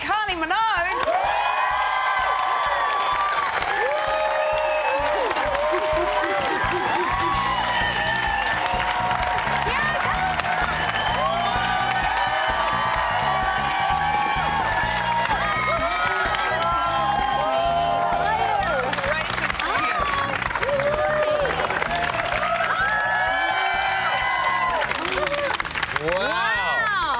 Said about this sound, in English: Ladies and gentlemen, a round of applause, please, for the one and only Kylie Minogue.